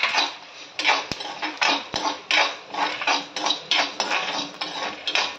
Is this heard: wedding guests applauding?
no